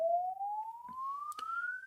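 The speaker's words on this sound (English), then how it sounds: "Basically what you do is you play this sweep that sounds like this." A pure sine tone sweeps smoothly upward in pitch for a convolution reverb impulse-response recording, steady and moderately quiet, with a couple of faint clicks.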